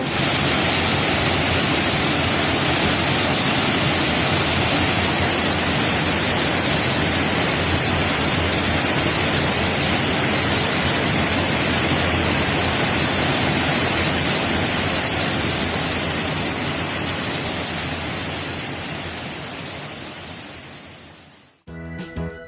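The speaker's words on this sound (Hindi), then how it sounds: "होटल एरिया में ही झरना गिरता है और रूम्स में झरने की मधुर ध्वनि सुनाई देती है।" Continuous dense roar of a waterfall tumbling right beside a hotel in Mussoorie, loud and close, a steady broadband wash of water that fades out near the end.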